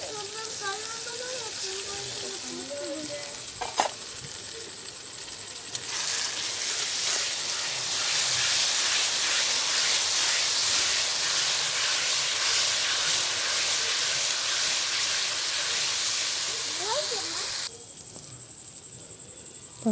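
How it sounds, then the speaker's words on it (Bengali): Ginger garlic paste frying in a pan as chicken kasha is cooked, a loud hissing sizzle that swells when the paste goes in and holds steady for about twelve seconds before dropping back to a quieter background. "এরপর আমি আদা রসুনের পেস্টটা দিয়ে দেবো, ভালো করে ভেজে নেব।"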